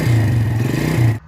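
A rebuilt Yamaha Vega ZR motorcycle engine runs at a steady idle with a low, even drone and faint mechanical clatter, then cuts off abruptly near the end.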